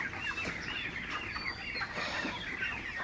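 Many 30-day-old broiler chickens cluck and murmur together in a soft, continuous chorus, a crowded flock heard from close by.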